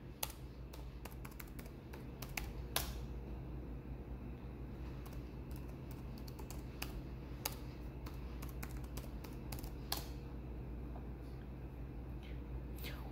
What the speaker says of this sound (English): type in a username and password